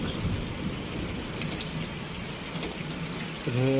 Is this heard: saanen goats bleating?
no